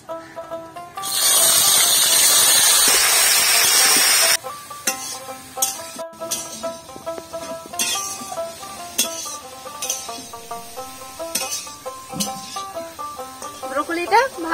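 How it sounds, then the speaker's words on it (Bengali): Broccoli drops into a little hot oil and erupts into a loud, dense sizzle lasting a few seconds, then gives way to background music with light clinks. "ব্রোকলির থেকে যাতে সবুজ গন্ধ চলে যায় তার জন্য খানিক পরিমাণ তেলে ব্রোকলিটা ভেজে নেব।"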